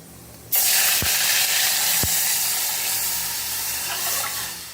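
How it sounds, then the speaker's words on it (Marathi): A ground peanut mixture is poured into hot cumin tempering for a fasting dish and bursts into a loud, sustained sizzle after a brief quiet start, broken by a couple of sharp knocks. "आता यात आपण हे शेंगदाण्याचा घोळ तयार केलेला आहे तो घालून घेऊ"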